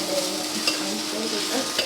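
Cooked rice tempered in a very hot pan, a loud steady sizzle and hiss with faint clinks of a utensil stirring, no talk.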